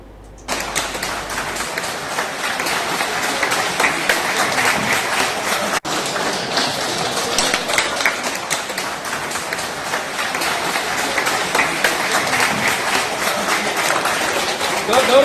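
Officials applaud together as they bid farewell to departing workers, a continuous dense clapping that carries loudly and evenly throughout, with no voices over it.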